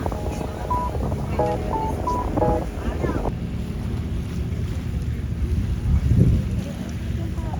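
Steady wind buffets the microphone on a boat island hopping off Boracay, a constant rushing roar with engine hum underneath and brief tonal beeps and voices early on.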